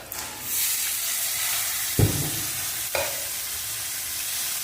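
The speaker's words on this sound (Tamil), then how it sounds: "சுண்டலை கொட்டிக்கிறேன்" Boiled sundal drops into a hot pan with turmeric and sizzles steadily. A couple of sharp stirring scrapes sound close against the continuous frying hiss, with no talk.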